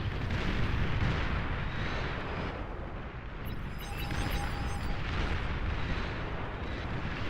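An aerial bombing run in the strategy game Beyond All Reason brings a steady rumble of explosions, deep and dense, rolling continuously with no voices over it.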